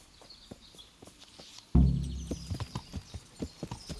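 Horse hooves clip-clopping in the medieval video game Kingdom Come: Deliverance, a steady walking rhythm of close, distinct hoof falls after a sudden thud.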